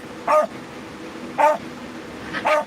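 Dogs bark outdoors near a home, three short separate barks spaced about a second apart, moderately close and clear over quiet background.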